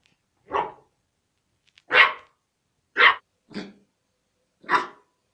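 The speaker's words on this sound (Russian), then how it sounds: "Чего ты гавкаешь?" A Yorkshire terrier barks five times in separate, evenly spaced bursts, fairly close and clear, with silence between each bark.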